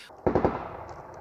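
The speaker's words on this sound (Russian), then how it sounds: "у меня под окнами стрельба идет" A quick burst of three sharp gunshots close together outside a window in a war zone, followed by a lingering rumbling tail and faint background noise.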